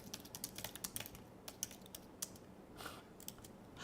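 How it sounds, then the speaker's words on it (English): Keys clatter on a computer keyboard in quick, irregular bursts of crisp taps, close by and fairly quiet, with no voices over them. "I'm terrible at typing, you know."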